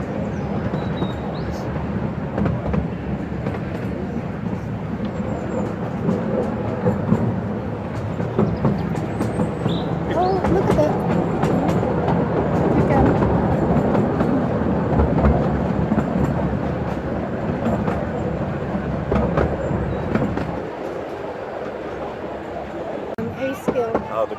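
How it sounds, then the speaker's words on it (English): A miniature railway train rattles and clatters along through woods at Ruislip Lido, Middlesex, UK, for a long stretch, rising then easing off, with people talking over it. "there is train in the woods"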